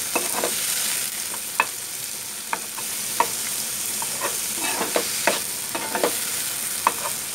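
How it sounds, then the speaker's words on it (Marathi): Onion and tomato fry in hot oil with a soft, constant sizzle, broken by repeated scraping clicks of a spoon stirring the pan at an uneven rhythm, close and without talk. "आता हे आपल्याला चांगलं भाजून घ्यायचं तेलामध्ये"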